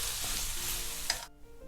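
Spicy Korean pork stir-fry (jeyuk-bokkeum) with vegetables and sesame oil tossed in a pan with the heat off, giving a steady close-up scraping and sizzling texture with a brief clatter near the end before it drops quiet.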